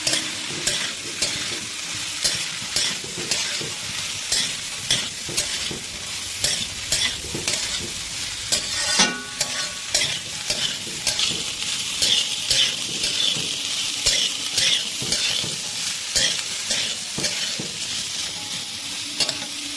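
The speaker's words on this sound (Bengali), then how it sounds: "কেটে রাখা গাজর দিয়ে দাও, আর এতে দিয়ে দেবো কেটে রাখা বরবটি, দিয়ে এটাকে ভালো করে এর সাথে মিক্স করে দেবো" Carrots and green beans stir-fried in a pan for vegetable chowmein, with steady sizzling and repeated scraping, clattering strokes of a spatula throughout, close and fairly loud, no talking.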